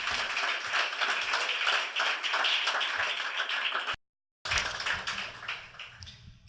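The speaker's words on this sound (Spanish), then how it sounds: "le brindan un gran aplauso" A church congregation applauds, many hands clapping in a steady close burst that stops abruptly, then resumes briefly and fades away.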